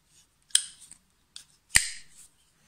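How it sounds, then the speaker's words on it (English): Two crisp, loud clicks spaced about a second apart from the blade of a Ganzo G722 Firebird folding knife locking into place, each snapping sharply with a short bright ring, close to the listener with no talk. "I love that click."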